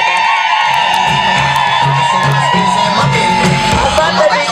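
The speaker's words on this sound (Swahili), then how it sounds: "Makofi na vigelegele wa dada." A wedding crowd cheering with high trilling ululations and shouts, loud and close, the voices overlapping in a continuous festive din.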